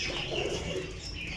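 Pigeons, including quail-type and golden cross breeds, coo softly in a brief, continuous murmur. It is close and steady, with light background noise.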